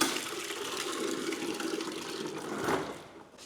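Water from a bucket pours steadily into a calf feeder, a continuous splashing gush that stays loud for about three seconds before tapering off.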